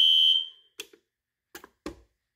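A mini fire alarm system goes off during a fire drill test, with one loud sustained high alarm tone that fades out, followed by three brief clicks or knocks.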